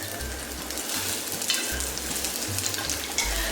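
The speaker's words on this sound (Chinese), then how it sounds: "姜炒出味后下洋葱" Onion hits hot oil with ginger in a 1.5-litre clay pot and sizzles steadily. Rhythmic scraping strokes of stirring come through in repeated low bursts beneath the continuous frying hiss.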